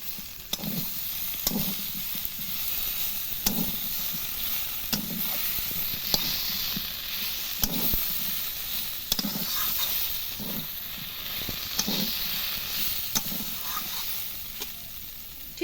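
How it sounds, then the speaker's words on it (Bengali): Mustard paste fries with moringa drumsticks in a pan, giving a steady hiss of sizzling oil broken by regular scraping stir strokes every second or so, close and fairly even in loudness. "সর্ষে বাটাটা দিয়ে আমি অল্প করে একটু কষিয়ে নেব"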